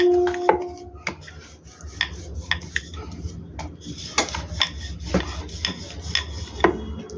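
Oiled, folded kachori dough worked with a rolling pin on a board, producing irregular close knocks, scrapes and clinks of utensils, with short pauses between bursts.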